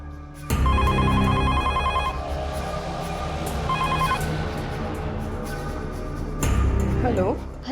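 A telephone bell rings indoors in a Crime Patrol Dial 100 crime drama scene, a repeated electronic ring in short bursts heard over a busy background of music and ambient noise.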